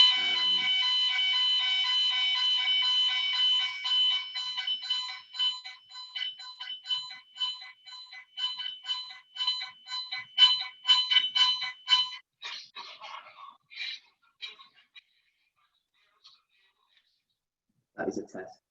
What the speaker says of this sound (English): I forgot we have a fire alarm test on Friday mornings.